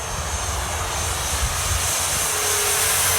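An E-flite Turbo Timber Evolution RC plane's electric motor runs at full throttle on a 3S battery, a steady, loud whine and propeller roar that holds constant and swells slightly toward the end, with no talk.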